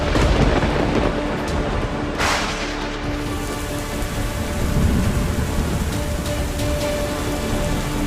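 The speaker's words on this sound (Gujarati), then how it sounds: "જુઓ ક્યાં કેવો છે વરસાદ" Heavy monsoon rain pours steadily and loudly during widespread Indian flooding, with deep thunder rumbling beneath the dense hiss of falling water.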